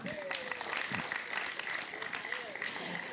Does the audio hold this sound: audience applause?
yes